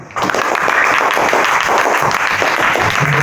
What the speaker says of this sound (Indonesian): Berikan tepuk untuk kelompok 1.